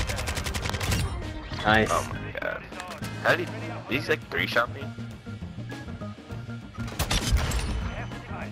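Gunfire in Modern Warfare 2: sharp rapid shot bursts crackle in several clusters, loud and close, while players talk over the action.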